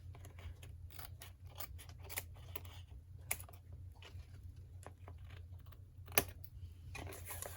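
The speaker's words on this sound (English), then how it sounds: "let's cut off the edges of these photos." Scissors snipping off the edges of photos for a 12x12 scrapbook layout, a run of short crisp cuts in irregular rhythm, close and fairly quiet over a low steady hum, with no talking.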